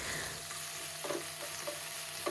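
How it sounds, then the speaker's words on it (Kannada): Oil sizzling steadily in a pan as fenugreek leaves fry, with a few soft stirring scrapes breaking through the hiss. "ಒಂದು ಪ್ಯಾನ್ಗೆ ಎಣ್ಣೆ ಮತ್ತು ಸ್ವಲ್ಪ ಮೆಂತ್ಯ ಸೊಪ್ಪನ್ನ ಹಾಕಿ ಚೆನ್ನಾಗಿ ಫ್ರೈ ಮಾಡ್ಕೊಂಡ್ವಿ"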